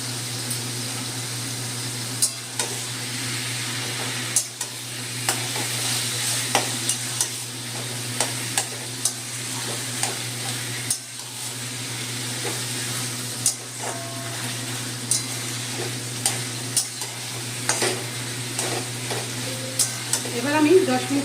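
Taro greens and a hilsa fish head fry in a pan, a continuous soft sizzle broken by repeated scraping knocks of a spoon stirring at irregular intervals.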